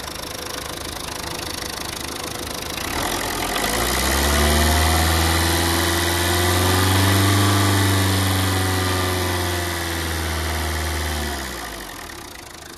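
A Tata Vista TDI diesel engine with a head gasket problem and a mild leak causing overheating settles into a steady, close, rumbling idle after a few seconds, holding for several seconds before fading near the end.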